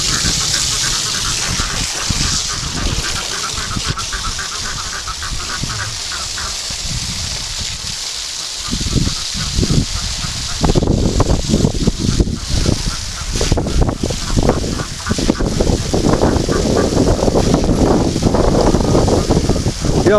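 Ducks in a garden quack and honk loudly and almost without pause, a busy flock close by with splashing from a garden hose.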